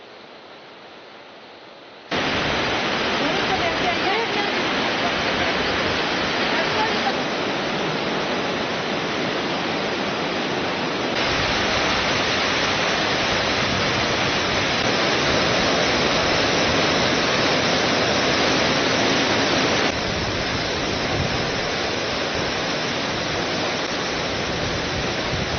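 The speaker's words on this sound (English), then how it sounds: "we felt the icy spray of this massive waterfall" Shannon Falls, a massive waterfall, roars as a loud, steady wash of broadband noise that holds constant throughout after a quieter opening couple of seconds, with no voices.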